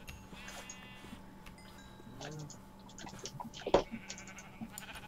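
Sheep bleat in the video game Minecraft, with short, quiet calls scattered over a low hum, with keyboard clicking and other game noises around them.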